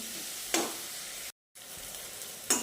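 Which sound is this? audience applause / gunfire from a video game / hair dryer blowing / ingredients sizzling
ingredients sizzling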